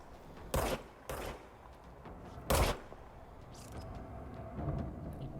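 Gunfire in the video game Control comes as a few loud, sharp bursts spaced a second or two apart, with quieter rumbling and clatter between them.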